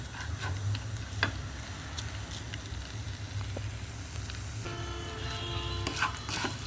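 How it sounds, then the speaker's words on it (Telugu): Pumpkin seeds dry-roast in a pan over low heat with a little turmeric, a soft continuous crackle and faint scattered ticks close by, with no one speaking. "గుమ్మడి గింజలు ఇంక ఇలా సిమ్లో మనకి ఎంత రోస్ట్ కావాలంటే అంత రోస్ట్గా వేపుకుంటే బాగుంటాయి."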